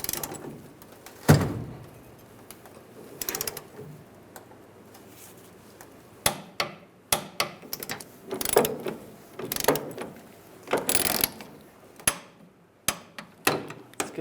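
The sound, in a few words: torque wrench tightening bolts on Chevrolet Silverado fuel sensor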